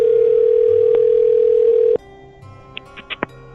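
A loud, steady telephone dial tone hums for about two seconds, then cuts off, leaving quiet line noise with a few short beeps and clicks.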